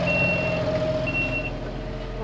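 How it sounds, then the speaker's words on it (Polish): A tractor's cab sensor beeps, giving two short, high electronic chirps over a steady low engine hum and a faint lingering tone. "Czujnik tam piszczał."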